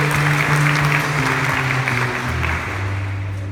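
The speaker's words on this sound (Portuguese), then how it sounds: "Vamos aplaudir poderosamente a palavra do Senhor." Sustained applause from a church congregation, dense clapping holding steady throughout with a faint musical tone sounding underneath.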